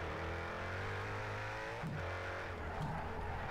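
A Jaguar F-Type SVR in the Project CARS 3 racing game holds a loud, steady high-revving engine drone, with brief tire-squeal or skid bursts near the end.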